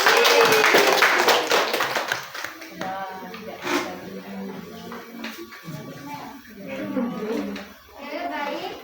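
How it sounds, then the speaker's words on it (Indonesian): Children in a classroom break into brief applause, a burst of clapping at the start that gives way to scattered taps, shuffling and chatter while an adult speaks. "Beri aplaus lagi."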